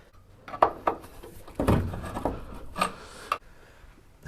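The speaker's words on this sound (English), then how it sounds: "I'll have to pop that with a screwdriver" A screwdriver pries a large washer out of a hole on a 1964 XM Ford Falcon Futura, giving scraping and grinding metal rubs broken by a few sharp clicks and knocks, close by with no talking.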